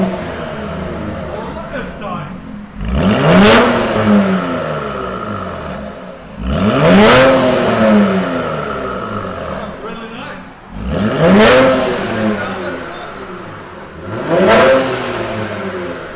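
A car fitted with a Borla muffler revs hard four times while backing up, each burst rising to a loud, raspy exhaust roar and then settling into a rumbling idle, close by and with no talk over it.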